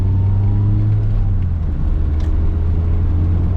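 A 1988 Mazda 323 with a manual transmission pulls along in second gear, its engine holding a steady, fairly loud droning hum with even tonal harmonics and no voices.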